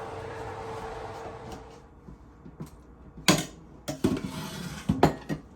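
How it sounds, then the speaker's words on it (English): A pot of seafood porridge with noodles is lifted off the stove, bringing a fading simmer followed by several sharp metallic clanks and knocks of cookware, close and fairly loud. "let's take this off the stove"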